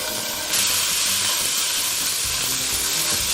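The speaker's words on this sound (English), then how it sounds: "I've got some grass-fed beef here from Trader Joe's, and I'm gonna pop that into my frying pan." Grass-fed ground beef sizzles steadily in a frying pan on medium heat, a broad bright hiss that swells louder after the meat hits the pan and continues unbroken, with faint stirring underneath and no talking.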